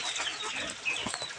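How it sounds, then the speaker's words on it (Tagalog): Chickens clucking briefly and faintly in a flooded backyard after rain, small scattered calls under steady outdoor ambience. "Ay mga manok."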